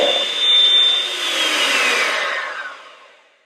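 An electric mixer whirs loudly and steadily through a key lime pie filling of sweetened condensed milk for a few seconds, then winds down and fades.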